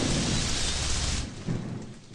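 A heavy downpour hisses loudly with a deep roll of thunder in the first half, then the rain continues alone a little more quietly.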